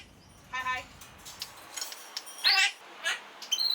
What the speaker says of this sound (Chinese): 家中养了8只鹦鹉，每天热热闹闹